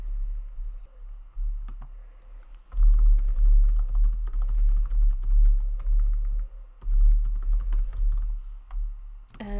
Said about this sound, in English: I've just typed in exactly what I wanted